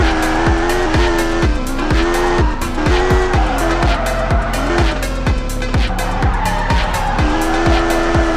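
Engine of a drifting car in the video game Car Simulator 2 revs loudly and steadily in rhythmic surges, with tire squeal and skidding running through the whole stretch and no talking.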